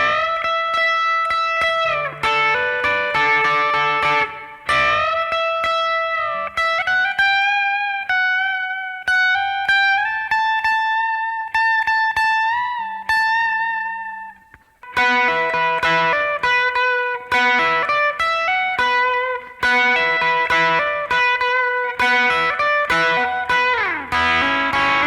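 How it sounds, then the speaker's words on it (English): A distorted electric guitar plays the solo from a song: sustained, bending lead notes ring out alone, with a brief pause near the middle before a busier run of notes. "the guitar solo sounds like this"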